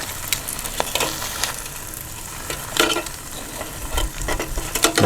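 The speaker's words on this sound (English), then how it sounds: "I'm just gonna turn them over because I want to still get them by themselves." Chicken wings for garlic parmesan are turned over in a Cosori air fryer basket, giving scattered close clinks and scrapes over a soft, steady sizzle.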